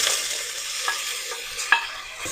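Onions and tomatoes are sautéed in a pan for a chicken gravy, with soft, steady sizzling under a few short scraping stirs of a spoon.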